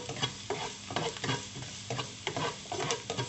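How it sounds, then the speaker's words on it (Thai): Minced garlic stir-fried in a pan over medium heat: a steady oily sizzle broken by rhythmic scraping stirs, close and moderately loud, with no talking. "คั่วกระเทียมให้หอมสักพักหนึ่ง"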